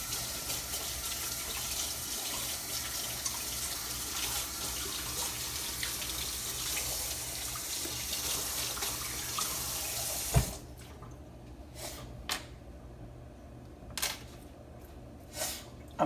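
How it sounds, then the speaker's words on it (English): Hands are washed under a running kitchen sink tap while buttermilk biscuits are being made. A steady rush of water pours, then the tap shuts off, leaving a few light clicks and knocks in near silence. "Let me wash my hands."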